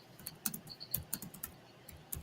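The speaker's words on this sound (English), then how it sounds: "Let me type the thing here" Someone types quietly on a computer keyboard. The keystrokes are soft and irregular, with a few louder clacks, heard close but low in level and with no speech.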